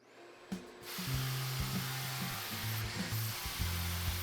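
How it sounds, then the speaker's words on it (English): A 7-inch DeWalt grinder smoothing mortar on a concrete floor after tile removal starts with a sharp knock, then holds a steady whirring motor hum under rough scraping and grinding that dips and returns in pitch, close and continuous. "I'll use my 7-inch DeWalt grinder with the concrete just kind of blade on it, and I'll just smooth out all this stuff"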